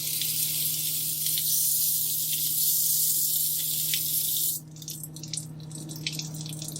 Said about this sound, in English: I'm gonna take out the suction, the water aspirator.